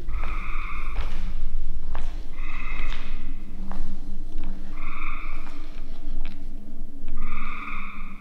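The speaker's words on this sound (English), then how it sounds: "you're going to hear a lot of frogs singing." Frogs croak in repeated rhythmic bursts beneath an elevator in an abandoned mall, several calls overlapping against a low humming background, fairly close and loud.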